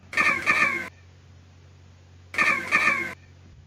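Chirped echo of a handclap off the stepped Kukulkan Pyramid, a Mayan temple: two pairs of sharp, descending chirp-like echoes, each pair about a second long, separated by a quiet pause with low hum underneath.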